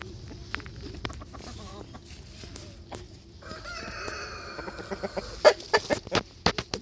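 Chickens cluck and squawk nearby, a busy flurry of short clucks growing louder, with a longer crowing call in the middle.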